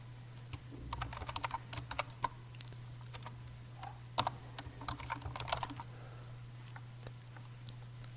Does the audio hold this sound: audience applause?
no